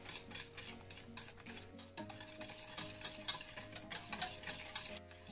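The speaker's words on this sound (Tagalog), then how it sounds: "Tapos, i-mix lang po ulit." Cheesecake batter being mixed after white sugar is added, a steady run of wet stirring and scraping strokes against the bowl, close and continuous with no talking.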